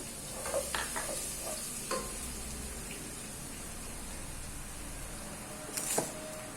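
Onion and garlic frying in a pan, a steady hissing sizzle with a few clinks and scrapes of stirring near the start and a louder stir near the end.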